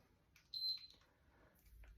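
A single electronic beep from a workout interval timer rings out clearly for about a quarter second in a quiet room, with faint shuffling around it.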